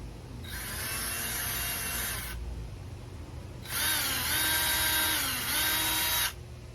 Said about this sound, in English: I'm going to go ahead and I'm going to just drill it out a little bit,